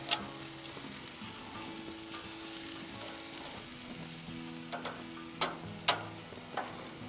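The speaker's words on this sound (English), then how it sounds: "We're going to move our steaks over here on the heat." Steaks sizzling on a hot cooking surface in a home kitchen, a soft steady frying hiss broken by several sharp pops and spatters, faint and close, with no talk.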